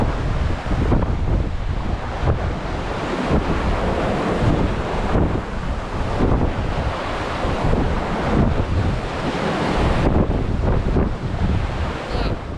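Strong wind buffets the microphone while waves rush and slap against a sailboat heading toward Maroon Bay in a steady 16–17 knot breeze, a loud, continuous roar without pause.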